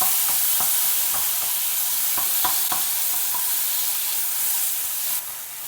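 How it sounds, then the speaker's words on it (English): Chopped tomato and finely chopped green chilli with a pinch of hing fry in a pan, a steady sizzle under a series of sharp spatula scrapes and taps as the mixture is stirred, close and fairly loud. "Stir it for just 1 or 2 minutes till the tomatoes become slightly soft."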